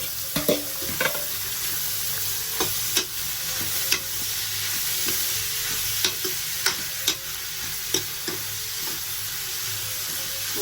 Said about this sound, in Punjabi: ਹੁਣ ਆਪਾਂ ਗਾਜਰਾਂ ਪਾ ਕੇ 3-4 ਮਿੰਟ ਨੂੰ ਕਰਾਂਗੇ ਹਲਾਵਾਂਗੇ ਗਾਜਰਾਂ